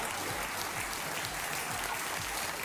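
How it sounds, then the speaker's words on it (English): An audience claps steadily and evenly, a dense continuous patter of many hands heard from a moderate distance at low level with no voices. "They are clapping at Nick Fuentes' jokes right now"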